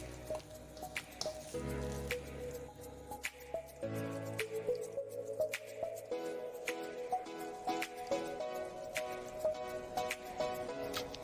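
Parotta dough ingredients being mixed by hand in a home kitchen, giving close, soft wet squishing and sticky slaps in an uneven rhythm, with some low rumbling at the start.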